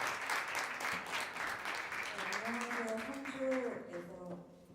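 An audience at an evening concert during a teachers' retreat claps loudly in a dense burst of applause that gradually fades as a voice begins speaking over it.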